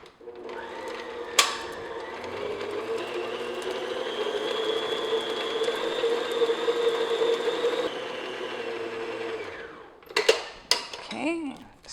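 An electric mixer beats butter until creamy, a steady whirring drone that runs for several seconds before stopping, followed by a few clinks and scrapes against the bowl.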